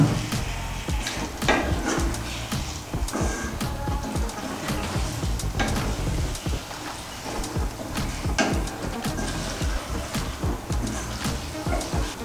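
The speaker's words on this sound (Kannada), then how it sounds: "ಇವಾಗ ಚಿಕನ್ ಒಂದು ಸರ್ತಿ ಚೆನ್ನಾಗಿ ಮಿಕ್ಸ್ ಮಾಡಿಕೊಳ್ಳುವ" Chicken with yogurt being stirred and fried in a pot for Hyderabad biryani, steady sizzling with repeated scraping and clattering stirring strokes throughout.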